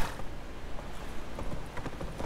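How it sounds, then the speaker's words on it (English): A horse's hooves clip-clop in the video game The Witcher 3, a quick, steady run of footfalls, faint and unaccompanied by talk. "A horse goes upstairs."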